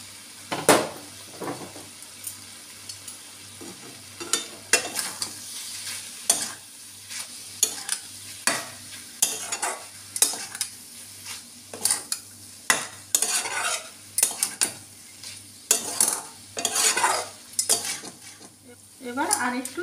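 Grated coconut mixture is stirred in a frying pan, a spatula scraping and tapping in repeated strokes every second or so over a faint sizzle, close and clear without talk.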